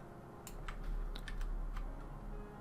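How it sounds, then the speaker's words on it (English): Close typing on a Tofu mechanical keyboard with MX Brown switches, a scattered run of soft tactile key clacks over a low room hum. "It's a MX Switch Brown. Is it too loud though? I love it. It's my new Tofu keyboard."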